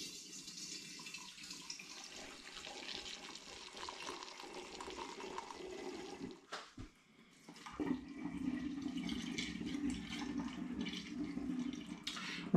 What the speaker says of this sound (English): you don't want to watch me pouring and pouring and pouring